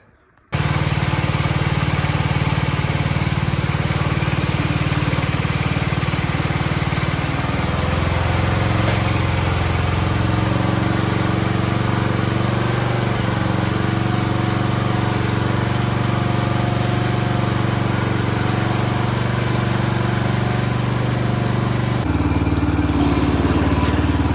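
A mini Jeep engine, bought cheap and in sketchy condition, starts abruptly and runs steadily at a loud, close idle, a continuous buzzing drone like a small lawn mower engine, with a shift in pitch near the end.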